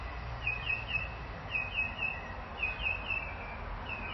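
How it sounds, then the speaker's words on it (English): Birds chirp and sing in repeated short high phrases over a steady low outdoor rumble, fairly distant, with no talking. "Let's take a moment and listen to the birds"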